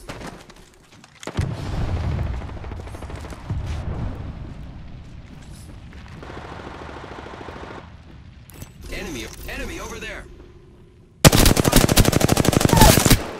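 Shooter video game gunfire: bursts of rapid automatic fire rattle close and loud, mixed with mechanical clatter and explosive booms, ending in a dense, sustained burst.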